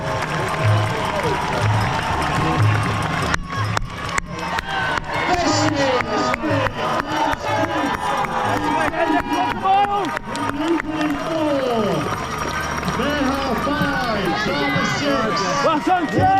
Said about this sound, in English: Let's make some noise as they come into this home straight.